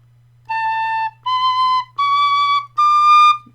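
A tin whistle plays four sustained notes, each stepping higher than the last, clear and close with short gaps between them.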